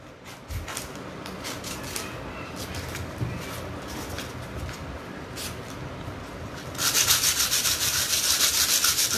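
Coarse sandpaper rubbing across the surface of a Tanjore painting, a steady close scratchy rasp of repeated strokes that grows louder and brighter for the last couple of seconds.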